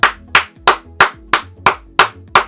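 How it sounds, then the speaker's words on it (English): Eight loud, sharp hand claps ring out in a steady rhythm, each one a crisp, close smack that decays quickly, with no talking between them. "I've got loud claps. It sounds like fireworks are going off"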